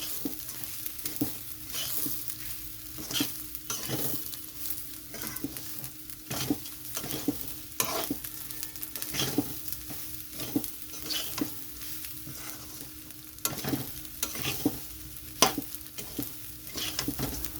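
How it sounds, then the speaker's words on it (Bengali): Rice grains frying with ground turmeric in a pan, a steady sizzle broken by regular scraping stirs of a spatula, close and continuous with no talk. "খুব ভালো করে ভাজতে হবে চালটা ভাজার পরে খুব ভালো গন্ধ বার হবে বারবার এটাকে নাড়তে হবে"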